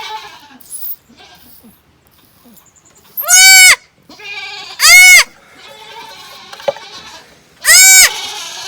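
A mother goat cries for her kid in loud, repeated bleats, three distinct calls spaced a few seconds apart, with quieter handling noises and faint background sounds between them.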